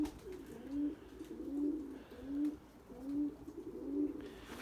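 Purebred Erzurum white breeding pigeons cooing in a loft, a soft, rhythmic series of about five low rolling coos repeating evenly, fairly faint and without any voices.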